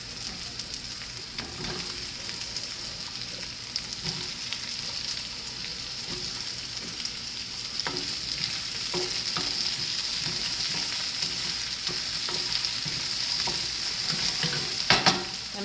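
Potatoes frying in a pan give a steady, bright sizzle throughout, with occasional scrapes and clacks as they are stirred, close and continuous with no talking.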